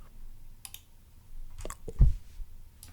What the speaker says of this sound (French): Attention, nouveau trigger, clic de souris.